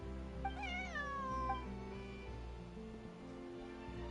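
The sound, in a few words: cat meowing in a video game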